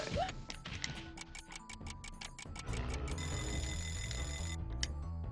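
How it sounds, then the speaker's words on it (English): Clock-like ticking from a timer in the Spyro the Dragon video game, a steady run of sharp ticks over game music and effects, ending in a sustained alarm-like tone near the end. "That was a really short timer."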